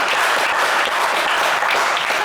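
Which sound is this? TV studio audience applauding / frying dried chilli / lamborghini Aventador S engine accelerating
TV studio audience applauding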